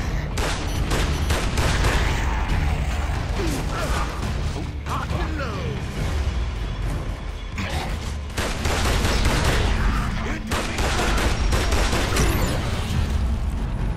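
Continuous gunfire and explosions from the video game Gears of War: Judgment, loud and dense from start to finish, with rapid overlapping shots, heavy bursts and only brief lulls.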